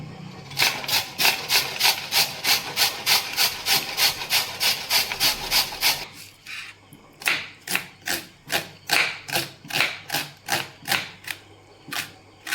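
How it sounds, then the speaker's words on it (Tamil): A carrot is grated by hand, a loud close rasping scrape repeated in a fast regular rhythm of strokes, with a brief pause midway before the strokes resume. "கேரட்டை துருவிக்கலாம்."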